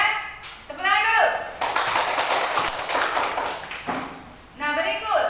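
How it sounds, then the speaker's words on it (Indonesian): Children in a classroom break into a brief round of hand clapping, a dense patter lasting a couple of seconds between a teacher's spoken questions, with speech heard before and after. "tepuk tangan dulu"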